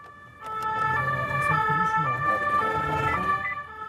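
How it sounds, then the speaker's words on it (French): A police car siren wails nearby in a steady two-tone cycle, loud and continuous across the clip while a vehicle chases a motorbike rider in an urban street. "Malgré la sirène actionnée"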